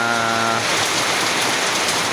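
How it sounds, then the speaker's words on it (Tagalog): Loud, dense rain pouring down in a constant roar, with a brief tonal hum fading out at the start. "ayan, napakalakas po talaga ng ulan."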